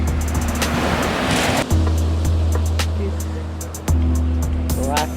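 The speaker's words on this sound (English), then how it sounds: "The wave just come in. This goes out to the Arctic." Arctic Ocean waves rolling onto a rocky shore near Reykjavik, Iceland, with a wash of surf and a deep steady rumble, plus faint clicks and some wind noise.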